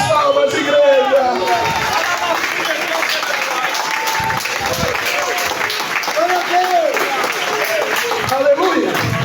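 A church congregation claps and cheers in praise during an evening worship service, a dense continuous wash of clapping mixed with crowd voices, with a preacher's voice and musical tones rising over it at times.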